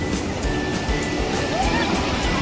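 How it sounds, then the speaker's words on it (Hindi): Big sea waves roll onto Rushikonda beach in Vizag as a steady, broad wash of surf with wind, loud and continuous, with faint crowd noise in the background. "यहाँ पर बहुत सारे अलग जबरदस्त लहरें आ रहे हैं बड़े बड़े"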